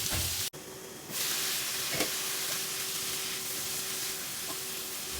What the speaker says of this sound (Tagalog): Nagigisa ko lang ito na mga isa o dalawang minuto muna.